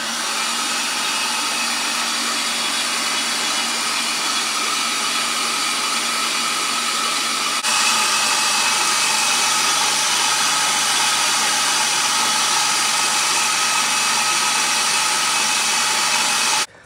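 An LS 5.3 engine on a run stand being primed with oil, giving a steady, close electric whirring drone that holds constant for the whole stretch, stepping slightly in tone midway, with no talking.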